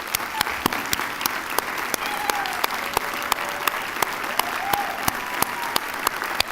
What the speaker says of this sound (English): So if you would join with me in giving them a big round of applause.